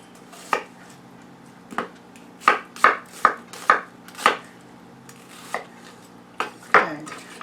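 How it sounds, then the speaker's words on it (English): Knife chopping vegetables into quick chunks on a cutting board, about a dozen crisp, uneven chops with short pauses between them, close and clear with no voices. "I'm just going to cut quick chunks."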